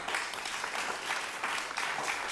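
Audience applause after an introduction of a young musician, a steady wash of many hands clapping at moderate distance, fairly quiet and even throughout.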